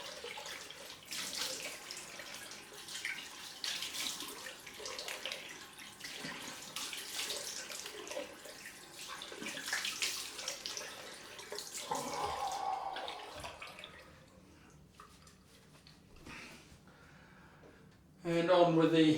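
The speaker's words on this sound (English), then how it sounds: "Cold water splash time." Cold water runs from a tap for a splash-down after a head shave, a steady close hiss that fades out near the end before a brief clatter.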